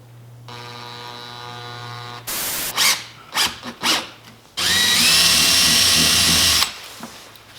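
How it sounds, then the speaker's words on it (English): A power drill bores into the bumper of a Subaru WRX while APR canards are fitted: first a steady, close whining spin of about two seconds, then a few knocks and handling sounds, then a louder, rougher two-second drilling burst. "we're about to drill in my bumper"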